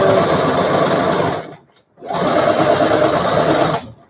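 A sewing machine stitches fabric for a face mask, running in two steady, close, buzzing bursts separated by a brief pause.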